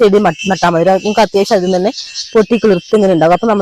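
A steady high-pitched cricket drone hums beneath a close voice talking continuously.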